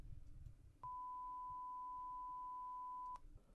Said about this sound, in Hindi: तो ये जो है ये 1000 किलोहर्ट्ज़ का साउंड है